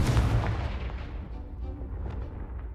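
A Confringo blasting spell explodes in the Hogwarts Legacy video game with a booming, rumbling burst at the start that trails off into a sustained low roar and scattered crackles.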